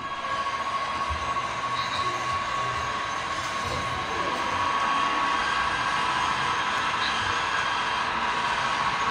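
An HO scale model train runs steadily on its track, a continuous whirring rumble with a thin high tone, slightly louder toward the end.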